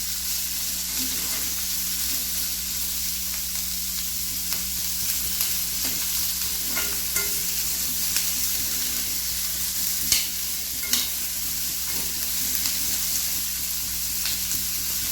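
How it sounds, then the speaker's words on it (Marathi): Onion being sautéed until golden for a paneer butter masala gravy, a continuous even sizzle in the pan with occasional soft stirring clicks and scrapes, no talking. "कांदा छान सोनेरी होईपर्यंत आपल्याला परतायचा आहे।"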